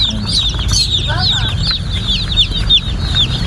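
Many chicks peep constantly in a new enclosure, high chirps overlapping near and loud over a low background rumble.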